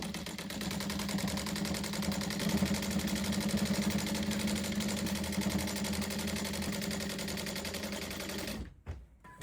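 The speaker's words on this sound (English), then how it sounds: "We're going to stitch down that line" A sewing machine stitching bias binding down on a quilted coat, running in a steady, close, rapid mechanical chatter for most of the time before stopping abruptly near the end.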